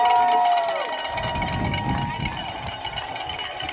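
Cowbells clang and rattle through a roaring football stadium crowd at a Brevard versus Maryville game, a dense, steady wall of cheering with ringing metallic tones layered on top, loud and continuous.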